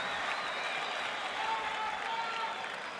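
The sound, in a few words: tennis crowd erupting in applause at 2010 US Open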